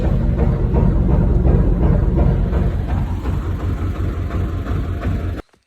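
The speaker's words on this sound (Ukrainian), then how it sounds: "Зараз заводимося і заводимо генератора і будемо мити оприскувач." A generator engine runs with a loud, steady low rumble and rhythmic throb, then cuts off abruptly near the end.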